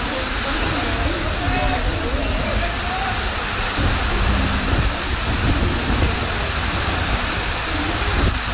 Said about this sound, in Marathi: जोराचा पाऊस आला आहे.